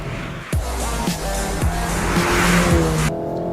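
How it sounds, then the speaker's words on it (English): A Seat Leon Cupra 280 with a DSG gearbox races around Cadwell Park circuit, its engine droning steadily and close while the tyres squeal repeatedly through corners and the pitch dips and rises with gear changes. "Marrow behind me in the Seat, and I'm just gonna see if I can drop him basically around Cadwell Park"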